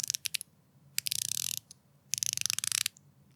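Bursts of rapid, fine ratcheting clicks from a 39mm Revelot Hexmariner dive watch bezel being turned, with a few isolated clicks between runs, close and fairly quiet.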